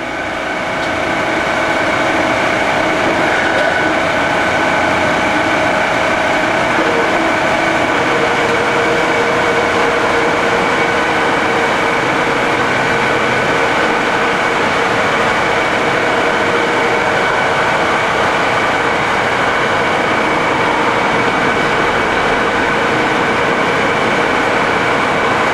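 A 1978 Cincinnati Milacron Model 550-25 VerciPower DH bed-type vertical mill with a 50 horsepower spindle motor, running at about 440 RPM: a loud, steady mechanical drone with sustained whining tones, heard alone.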